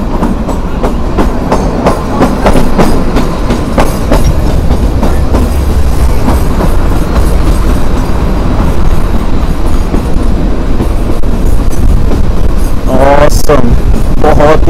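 The Shimla toy train rumbles along narrow-gauge track near Himalayan scenery, a loud continuous roar of wheels and carriages with rhythmic clickety-clack and a brief squeal near the end.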